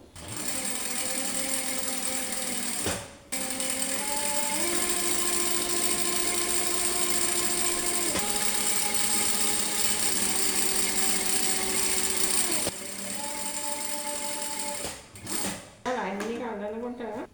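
A sewing machine stitches the lining strip of a scrap-fabric patchwork bag, running in long steady bursts with brief pauses between seams, its motor whine shifting pitch as speed changes, close and loud.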